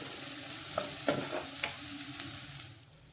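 Tofu frying in a pan with chopped garlic, a steady close sizzle and crackle with a few sharper pops, alone without voices, fading slightly at the end.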